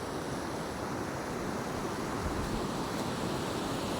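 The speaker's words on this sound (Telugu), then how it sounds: "ఫ్లో వేగవంతంగా పారుతుంది గంగా" The fast-flowing Godavari river at Munipelly rushes as a constant broad roar of water, steady and enveloping throughout, with no voices.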